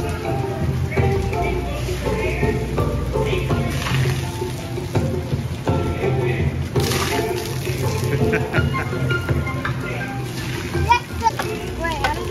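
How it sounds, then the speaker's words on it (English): Water splashes and sprays in a theme park splash play area, a steady wash of spray under children's chatter and shouts, with someone speaking over the noise. "Big old splash area here."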